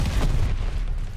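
Grenade explosions in Call of Duty: Vanguard on the Shipment map: a single heavy low boom that rumbles and decays quickly, loud and close amid game noise.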